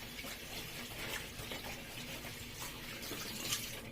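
A moi moi leaf being scrubbed with a sponge, no soap, in running water, heard as a steady, continuous wash of splashing and trickling water at low level, with no voices.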